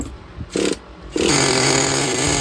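A Traxxas Nitro 4-Tec 3.3 RC car's small nitro engine gives a couple of short revving bursts, then settles into a loud, fast, buzzing idle.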